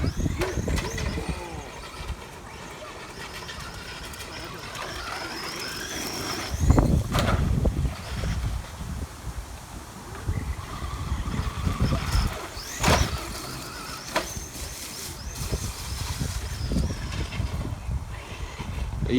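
An ECX Ruckus 2WD brushless RC truck drives and jumps around a park, its electric motor whining in revving bursts with scattered thumps and rattles, fairly close, while people talk at times.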